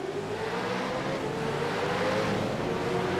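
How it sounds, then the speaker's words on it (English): iRacing V8 race cars rev and pull away at Phillip Island in a video game, a dense, continuous engine drone with a rising tone, loud and steady throughout. "they're already revving up, and we're getting ready to go racing right now from Phillip Island"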